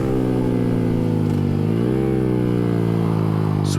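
A 2022 Honda Grom motorcycle's small engine holds a loud, steady, high-revving drone during a top speed run, its pitch dipping briefly and then climbing again, close to the microphone with wind rush.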